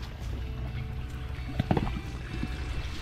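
A backyard babbling brook trickles and splashes continuously at close range, a soft broadband wash with small bubbling bursts and no talk.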